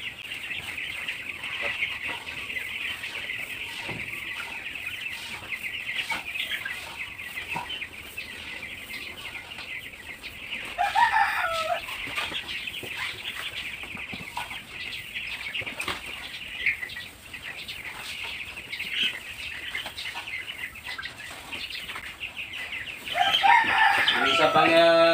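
Chickens cluck steadily and busily on a farm with lice-infested hens, with wing flapping throughout and a rooster crowing near the end, fairly close and continuous.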